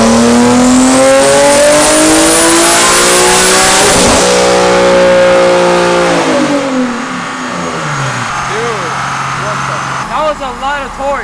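A tuned Nissan 370Z V6 with anti-lag roars on a dyno. The engine sweeps up and down through loud revs, then drops into choppy, popping bursts, with people's voices faintly in the background.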